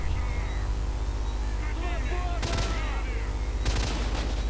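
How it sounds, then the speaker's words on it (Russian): Bursts of gunfire ring out in the video game STALKER: Shadow of Chernobyl, two sharp loud volleys over a steady engine-like game drone, while someone speaks over the action. "Я стреляю монолит."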